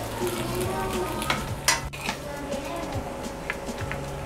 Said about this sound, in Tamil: இப்போ இது பவுலில் ட்ரான்ஸ்ஃபர் பண்ணிவிட்டு நான் உங்களுக்கு அந்த சாஸ் மிக்ஸ் பண்ணி காமிக்கிறேன்